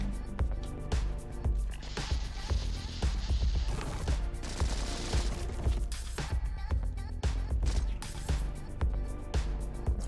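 Rapid bursts of shoulder-cannon fire in the Factorio video game, crackling shots and booming impacts over a steady noisy background, dense and continuous throughout with no voice.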